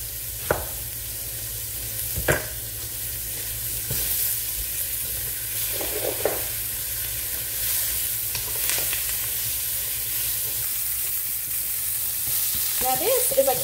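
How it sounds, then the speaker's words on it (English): Butter browns and sizzles in a Berghoff cast iron wok with onion for cabbage and smoked sausage, a constant bright hiss broken by occasional utensil clicks and scrapes. "my butter's getting brown, but I think it'll be good."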